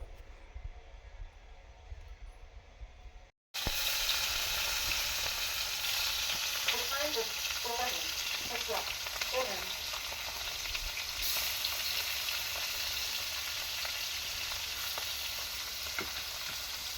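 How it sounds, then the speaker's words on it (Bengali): Pointed gourd and prawns fry in a pan of hot oil in a home kitchen. After a brief quieter start, a loud, steady, close sizzle with crackling spatters continues to the end. "পটল চিংড়ি করছো মা? পটল চিংড়ি বসে দিয়েছো?"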